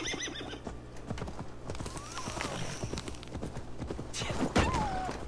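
Galloping hooves and a horse's whinny from the video game Assassin's Creed Valhalla, a steady clip-clop rhythm with a rising neigh midway, set against game ambience with no talking.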